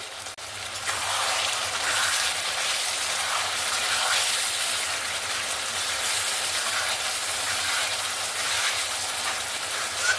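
Cauliflower and potatoes with spices hiss and crackle steadily in a hot pan, a continuous close frying sizzle with faint stirring and no voices.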